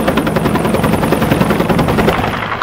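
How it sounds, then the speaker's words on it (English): A helicopter at a landing zone roars close and loud, its rotor beating in a rapid, steady pulse over a dense engine drone throughout. "the nuances of landing and safely interacting with a helicopter"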